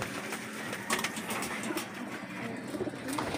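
Pigeons cooing inside a loft, a steady blend of low coos and rustling from many birds at once, close by, with no one talking.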